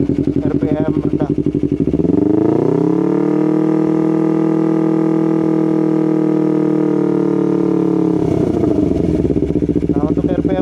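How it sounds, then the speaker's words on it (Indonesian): A Yamaha R25 with a DSM Racing aftermarket exhaust is revved at low RPM close by. A steady idle swells into one sustained, smooth rev held for several seconds, then drops back to a loping idle. "Coba kita geber dulu ya, RPM rendah."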